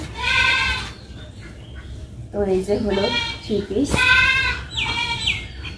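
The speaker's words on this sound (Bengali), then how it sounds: "ছাগলের বাচ্চা ডাকাডাকি করতেছে" Penned-up goat kids bleat repeatedly in short, wavering cries, some high and some lower, mixed in with a person talking nearby.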